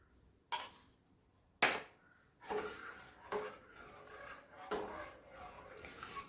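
Metal spoon scraping and clinking against a pot as tender coconut payasam, sweetened with condensed milk, is stirred over a low flame; a few sharp knocks followed by softer, scattered scrapes, close by.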